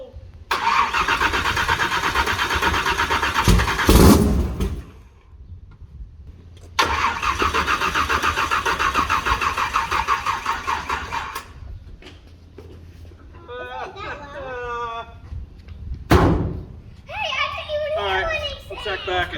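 A car engine fitted with two blower motors cranks and fires in bursts, loud and close with a strong whining roar that cuts off between attempts, while children's voices chatter in the gaps.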